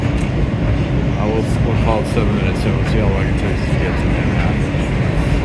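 A legacy BMT subway train riding from Brooklyn toward Manhattan, with a loud steady rumble and rattle of the car running the whole time beneath someone talking.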